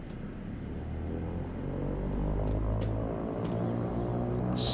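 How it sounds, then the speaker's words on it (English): King Air twin turboprop engines spooling up in a flight simulator, a steady low rumble and hum that builds gently in level, heard alone with a few faint clicks. "let's gently bring the RPMs up"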